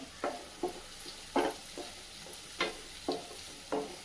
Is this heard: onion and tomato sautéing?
yes